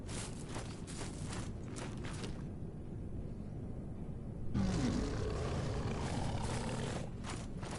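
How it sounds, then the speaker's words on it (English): A creature in a video game lets out a deep, drawn-out roar over a steady noisy rumble, loud and near, swelling midway through then settling back. "I don't like the sound of that roaring."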